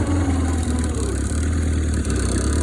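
Cub Lo Boy two-wheel drive tractor engine running at a steady idle, a loud continuous low rumble with an even throb throughout.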